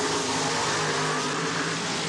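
Mud racing dragsters launching at a 1994 NMRO event in Chillicothe, Ohio, a supercharged blower motor against a carbureted nitrous oxide engine, a loud steady roar of engines filling the track with no pause.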